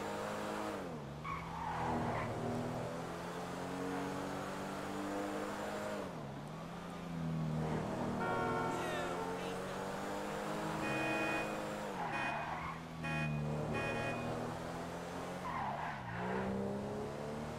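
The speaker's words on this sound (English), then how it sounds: "The roar of this engine. Oh, shit, it's actually fast as well. But the roar of the engine." A sports car in GTA V on Xbox One roars and revs repeatedly, with rising and falling engine sweeps and tire squeal, loud and continuous throughout without speech.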